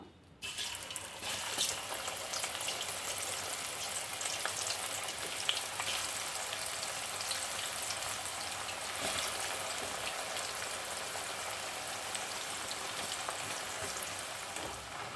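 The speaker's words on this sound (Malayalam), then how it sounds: "ആദ്യത്തെ ബാച്ച് വറുത്തെടുത്തിട്ടുണ്ട് ഇനി അടുത്ത ബാച്ച് നമുക്ക് ഫ്രൈ ചെയ്തെടുക്കാം" Banana chips (upperi) frying in a pot of hot oil for an Onam snack, a dense, steady crackling sizzle that starts abruptly and runs loud and continuous throughout with no voices.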